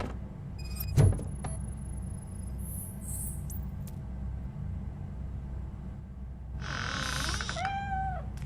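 A cat meows several times near the end in the video game Robocop: Rogue City, a rising and falling call over a low ambient rumble, after sharp electronic beeps and tones earlier.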